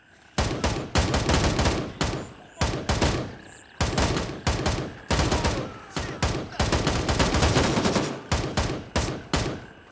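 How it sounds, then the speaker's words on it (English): Weapon fire in the shooter game Gray Zone Warfare, with rapid bursts of flat, loud gunshots in clusters and short gaps between volleys, filling the whole span with no voices. "when you listen to the weapon sounds, they do sound pretty flat."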